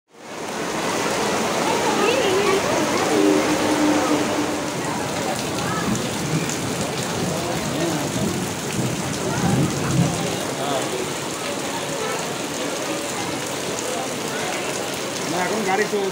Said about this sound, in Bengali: পাক্কা 1 ঘন্টা বৃষ্টি হওয়ার পর বৃষ্টিটা একটু কমেছিল